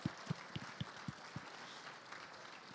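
A few slow, evenly spaced handclaps sound faintly in a business discussion setting, about six distinct claps over roughly a second and a half before fading into quiet room tone.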